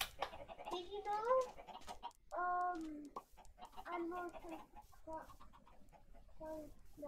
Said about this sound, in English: That's so many chickens.